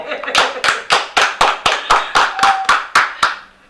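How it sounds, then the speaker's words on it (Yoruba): Applause for two candidates at a political gathering comes as a strong, regular run of about a dozen sharp hand claps in a steady rhythm, close and loud. "ẹ kọ́kọ́ bá mi fún wọn ní àtẹ́wọ́ náà"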